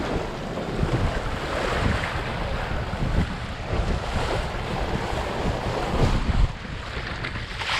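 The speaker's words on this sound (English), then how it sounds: "Sometimes hard to appreciate the waves from the boat you're in." Lake waves slosh and slap around a small Sunfish sailboat under constant wind buffeting the microphone, irregular surges rolling close by with no voices.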